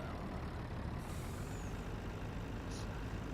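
A large truck in Farming Simulator 19 idles and rumbles at a beet field while a sharp air-brake hiss bursts out, followed by a faint short high squeal.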